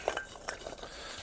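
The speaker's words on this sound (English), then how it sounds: "going to give this all a nice toss" Chicken coated with cumin and spices is tossed in a dish, soft scraping and light clinks of utensil against the container, quiet and brief.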